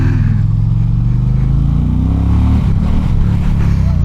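Indian Challenger motorcycle engine revs hard and accelerates, a loud, close, continuous deep roar with rising and shifting pitch throughout, heard alone without talk.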